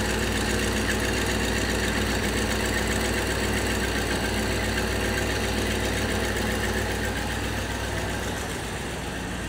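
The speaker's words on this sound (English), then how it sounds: "Got a little bit of exhaust leak there." A 1954 Buick engine idling after long storage, with a small exhaust leak adding a ticking, puffing edge to the steady, loud, close mechanical drone.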